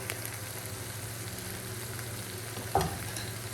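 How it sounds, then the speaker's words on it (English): Garlic and onion sautéing in a little oil in a pan for chicken curry, a soft even sizzle with one brief clatter of a spoon near the end, no voices. "you can just add just a touch of oil just to get that onion sauteing"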